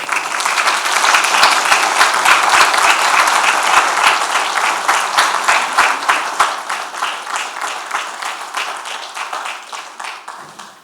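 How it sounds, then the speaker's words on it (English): Loud audience applause at an evening courts event, steady dense clapping from a crowd that holds for several seconds and then tapers off into scattered, fading claps. "let's give a warm round of applause to thank Judge Egan for his"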